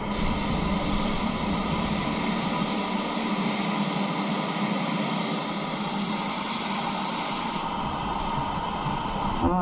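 A spray gun lays a shadow chrome paint coat onto a wheel, a steady close hiss of atomised paint running continuously throughout, fairly quiet and without speech.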